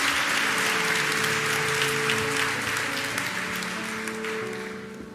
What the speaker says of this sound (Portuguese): Pode dar uma salva de palmas, gente